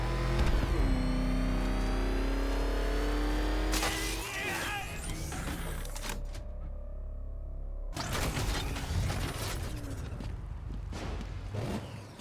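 A car engine in Batman: Arkham Knight drives and revs loudly with shifting pitch, then drops out briefly before returning, with no one speaking over it.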